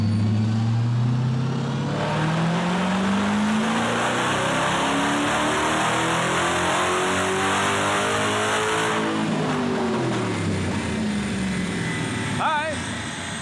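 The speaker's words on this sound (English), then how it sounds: "I'm so excited to hear the engine with the smaller pulley" A supercharged Dodge Hellcat V8 engine with a smaller pulley revs up and down repeatedly on a dyno, rising to a loud roar, with a steady whine layered over the engine noise.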